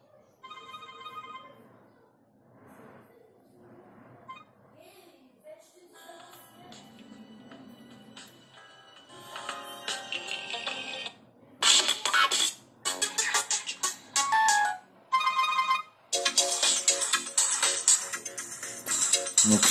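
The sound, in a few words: Ulefone S8 Pro phone ringtone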